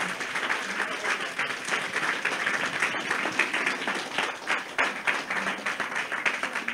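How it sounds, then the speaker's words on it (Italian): An audience at an Italian political candidates' presentation breaks into sustained applause, a dense continuous clatter of many hands with a few louder bursts, carrying on throughout. "quando lo dirai arriverà l'applauso"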